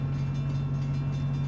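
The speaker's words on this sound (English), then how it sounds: "If we have to wait for this train, we're really gonna be late." A train goes by with a loud, continuous low rumble and a steady droning hum, heavy and close throughout with no voices.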